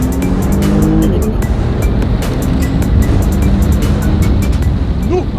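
A Porsche sports car engine running in Sport Response mode, a loud steady drive with strong low rumble and tire noise from inside the car, continuous throughout.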